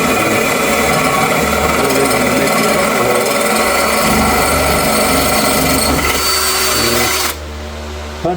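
A Jeep TJ body panel being worked with a power tool, giving a loud continuous rasping, grinding drone for about seven seconds before it cuts off abruptly, with no talking.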